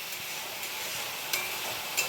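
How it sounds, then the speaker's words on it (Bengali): Spice paste frying in a pan in a home kitchen, with a steady low sizzle and two sharper scrapes of stirring, no talk. "এই যে মশলাটা ভাজা হচ্ছে"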